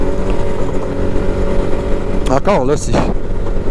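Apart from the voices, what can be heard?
Can-Am Maverick X3 DS Turbo RR off-road vehicle engine driving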